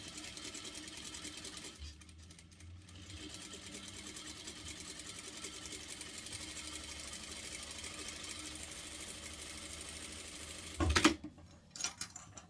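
A sewing machine hums steadily while topstitching the hem of a cloth diaper, a continuous close mechanical whir that stops briefly early on, then ends with a few clunks and rattles.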